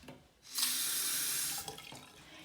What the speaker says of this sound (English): there's running water.